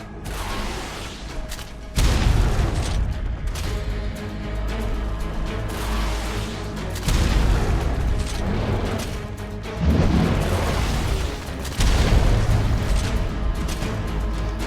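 Rocket blasts in the video game Risk of Rain 2 with the Artifact of the Crag, as a run of heavy booming explosions every few seconds, each rumbling on under dense, loud game sound.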